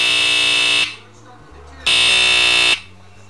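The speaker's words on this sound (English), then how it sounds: "A smoke alarm makes a very loud beeping noise to warn you that" A smoke alarm sounding two loud, harsh buzzing beeps, each lasting just under a second, separated by a short pause.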